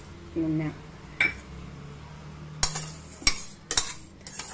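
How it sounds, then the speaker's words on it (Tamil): Urad dal dry-roasting in a pan without oil, with sparse clinks and scrapes of a utensil stirring against the metal, plus a few sharp taps, while someone speaks softly in the background. "முதல்ல உளுத்தம்பருப்பு வறுத்துக்கலாம்"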